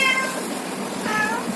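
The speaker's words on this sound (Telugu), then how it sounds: "మ్యావ్ మ్యావ్ మ్యావ్ మ్యావ్ మ్యావ్." A cat meows twice, a short cry at the start and another shortly after, close and clear over steady background hiss.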